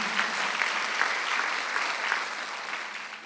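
A church congregation at a Sunday worship service claps in unison, steady rhythmic beats about twice a second, loud and continuous with no talking.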